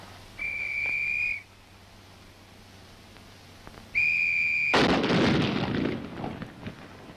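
At the Aberdeen proving ground, a rifle proof test opens with two steady whistle tones, the second cut off by a sudden loud blast whose rumble rolls and fades over the following seconds.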